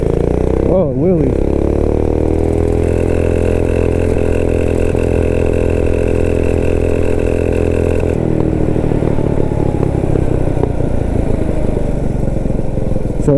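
A Motovox minibike with a Predator 212 engine revs up hard and accelerates, a loud, close buzzing engine note climbing in pitch, then holding steady at the governor and shifting slightly as it runs on.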